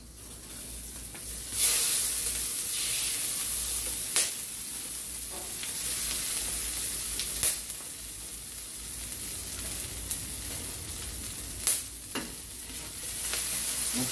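Salt sizzles and crackles on a hot 220V Itajobi griddle plate as it draws off oil, a steady bright hiss broken by a few sharp scraping strokes, no talk.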